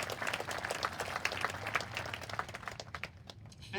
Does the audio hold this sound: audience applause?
yes